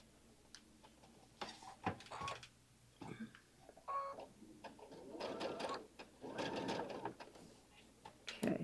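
A sewing machine runs a half-inch dress seam for a Louise dress, sounding in several short, quiet bursts of rapid stitching separated by brief pauses, with light handling noises between runs.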